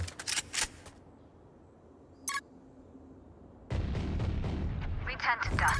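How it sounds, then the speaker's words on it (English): Swarm grenade detonating in the Valorant shooter game, a series of sharp bursts and popping blasts followed by a loud sustained rumble of game effects. "Placing swarm grenade."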